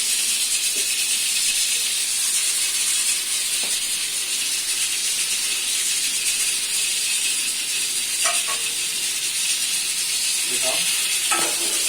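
Chopped onions drop into hot oil in a large pot for yakhni pulao, giving a steady, loud, hissing sizzle throughout with occasional clinks of a spoon, while a voice speaks briefly.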